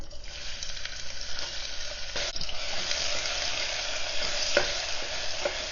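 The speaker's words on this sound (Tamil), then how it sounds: "ஆயில் நல்லா ஹீட் ஆயிடுச்சு. கட் பண்ணி வச்சுருக்கிற ஆனியன் ஆட் பண்ணுறேன்." Cut onions fry in hot oil inside a pressure cooker, giving a steady close sizzle with a few stirring scrapes and clinks throughout, no voices.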